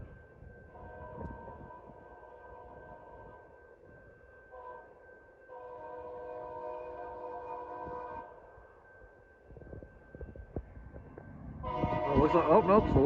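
A Union Pacific local freight train passes through Ashton, Illinois, its horn blowing in long sustained chords, then a louder, closer blast as the train nears, with rail rumble underneath.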